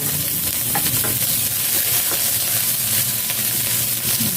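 Onion hits browned garlic in a hot pan for stir-fried kangkong, a steady close sizzle with stirring scrapes running throughout, no talk.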